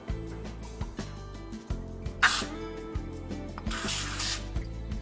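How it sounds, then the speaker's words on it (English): Several short hissing bursts of baking spray sprayed into ramekins, one longer and one sustained, with light clinks and taps of dishes between them. "I'm going to spray it with some baking spray."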